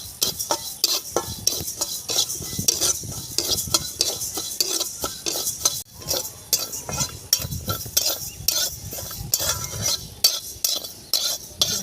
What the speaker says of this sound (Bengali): কড়া গরম হয়ে গেছে, মুগ ডালটা দিয়ে দিলাম,